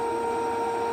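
An electric air pump drones steadily as it inflates an AirDream sofa bed, a constant close whine with a couple of strong tones and no breaks.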